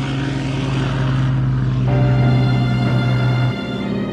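Spitfire propeller fighter aircraft flying, a loud steady engine drone with a strong humming tone that rises in pitch midway, then cuts back near the end, no voices.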